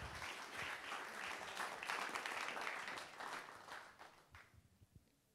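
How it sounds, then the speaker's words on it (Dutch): Warm audience applause welcoming a guest at a university talk show, dense and sustained before fading out into a few last claps, heard at a low level. "Ook graag een hartelijk applaus."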